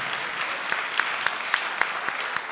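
Theatre audience applause after a presentation of Donizetti's opera La figlia del reggimento, a steady, even wash of many hands clapping with a few louder claps standing out.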